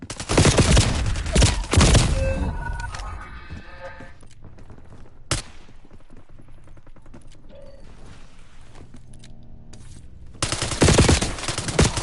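Bursts of automatic gunfire open and close a Warzone battle royale match, loud and dense near the start and end, with mechanical clicks and sparse game sounds in a quieter middle stretch.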